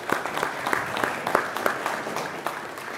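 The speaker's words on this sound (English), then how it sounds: "Let's give these guys a round of applause too." An audience at a county fiscal court meeting gives a round of applause, a moderate, somewhat distant spread of clapping with a few sharper individual claps standing out.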